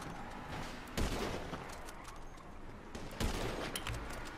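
Rapid bursts of gunfire in the video game GTA 5 Online crackle continuously, with a couple of louder shots standing out amid a dense, noisy barrage.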